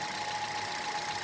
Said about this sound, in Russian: у меня слышен перестук на перекладке